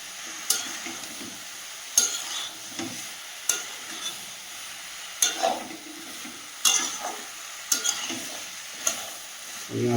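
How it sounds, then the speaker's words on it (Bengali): Mixed vegetables and large prawns sautéing in a big wok, a low background sizzle punctuated by about eight sharp metallic spatula scrapes and knocks at fairly regular intervals. "আমি আস্তে আস্তে এইভাবে কষাবো"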